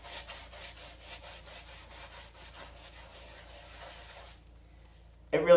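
Rhythmic back-and-forth scrubbing of an oil-covered car underside with the soft side of a Gunk degreasing wipe, steady strokes for several seconds before stopping, then a brief louder noise.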